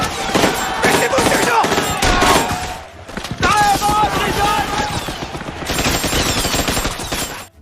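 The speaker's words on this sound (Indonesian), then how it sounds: "Tembakan dari arah hutan langsung menyambut mereka." Heavy gunfire rattles out of a forest in dense bursts that overlap like a fusillade, loud and continuous with one brief lull midway, set against a busy, noisy background.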